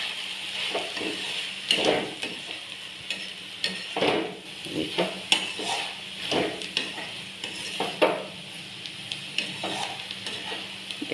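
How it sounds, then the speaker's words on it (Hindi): Nonia (kulfa, purslane) sabji with tomato puree fries in a pan with a soft sizzle, while a spoon scrapes and stirs in uneven, repeated strokes close by. "हम थोड़ा सा इसको फ्राई कर लेंगे"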